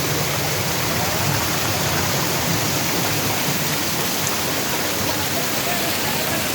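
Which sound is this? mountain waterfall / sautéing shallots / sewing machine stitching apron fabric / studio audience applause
mountain waterfall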